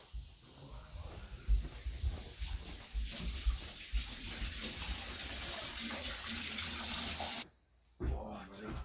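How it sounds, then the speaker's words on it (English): A tap running into a sink as it fills, a continuous close hissing splash with uneven gurgling bursts, ending with a brief drop before the flow resumes. "Go fill the sink up with water right now."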